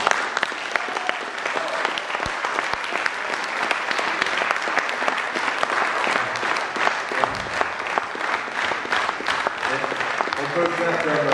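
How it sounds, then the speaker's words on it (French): A large audience at a closing evening gala in Lille applauds for young participants, sustained dense clapping with sharper individual claps throughout and voices mixed in. "Moi, je vous demande de les applaudir encore."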